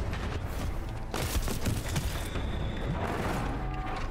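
Weapons fired indoors in Titanfall 2, a continuous clatter of rapid shots and booming impacts echoing close in an enclosed space, with no pauses.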